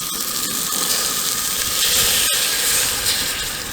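A port wine marinade boiling in a pot at a campsite, a loud steady hiss of steam and bubbling, close and continuous with faint clicks.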